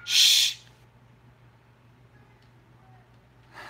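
A pet bird kept in a cage, indoors in a home, gives one loud, shrill call near the start, followed by quiet room noise and a low hum, then the call begins again faintly at the very end.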